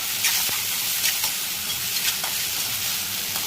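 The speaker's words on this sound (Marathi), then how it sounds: "थोडा टमाटा चांगला फ्राय करायचा" Tomatoes frying in a pan for a chicken gravy, a steady broadband sizzle with faint crackles and occasional stirring scrapes, close and continuous with no voices.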